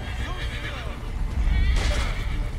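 A horse in the game Assassin's Creed 3 neighs loudly and nearby, its whinny rising over hoofbeats and combat noise, with a louder burst of clatter partway through.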